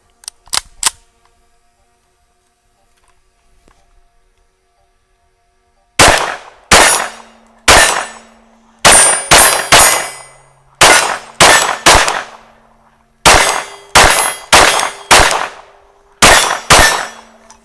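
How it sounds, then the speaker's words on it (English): B&T TP9 rotating-barrel pistol firing at an outdoor range, about twenty sharp, loud shots in quick pairs and clusters after a quiet pause, with steel targets clanging and ringing between the reports. "Let's send some lead down range."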